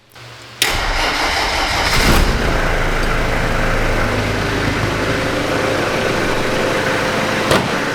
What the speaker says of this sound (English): Fires right up